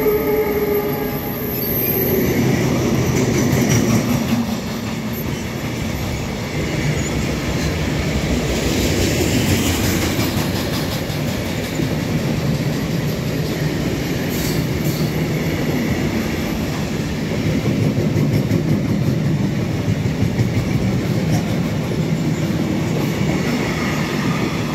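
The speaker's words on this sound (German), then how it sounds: "jetzt höre ich den Güterzug durch in Wächtersbach" BR 152 electric locomotive hauling a freight train through Wächtersbach station, a long steady rumble of wagons rolling past with rail clatter and occasional high wheel squeals.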